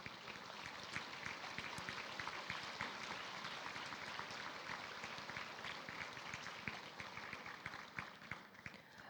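Sustained applause from a large audience fills a university graduation presentation ceremony, steady clapping that holds at an even level throughout without pause.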